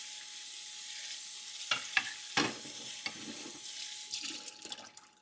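Cut potatoes being washed and swirled in water in a sink for poutine, with splashing, sloshing and a few sharp clatters against a low steady background hum; no talking.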